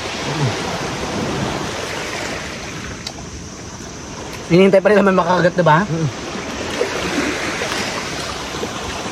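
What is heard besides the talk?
sea waves at the seashore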